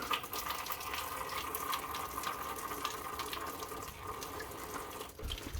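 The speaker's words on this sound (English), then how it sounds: "I'll let it just drain down into the bucket" Coolant drains steadily from the radiator of a VW Crafter van into a bucket, a continuous close trickling and splashing flow with no talk over it.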